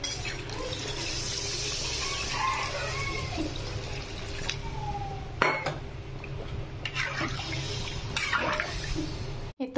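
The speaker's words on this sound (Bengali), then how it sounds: "জল দিয়ে দিব।" Water poured into a pot of mutton kosa curry, a steady, close trickle with a few light clinks of the pot, no voices.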